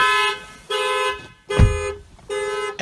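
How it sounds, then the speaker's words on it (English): The factory alarm of a 2017 Toyota Camry, set off by opening the driver's door with a mechanical key, blares in loud, repeated tonal horn-like bursts separated by brief gaps, with a thump partway through. "Open the driver's door with a mechanical key and the factory alarm system is immediately activated."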